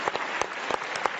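A studio audience applauds a band on a live Italian TV show, a brief dense burst of clapping with a few sharper individual claps standing out.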